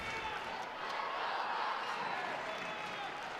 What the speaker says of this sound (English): Let's go Rutgers chants coming out now.